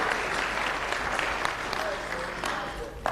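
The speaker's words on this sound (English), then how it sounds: "So I want you to actually give us a clap for that." Audience applause fills a room at a hotel company's annual general meeting, a steady dense wash of clapping lasting about three seconds, fairly loud and continuous with a faint voice briefly audible beneath it.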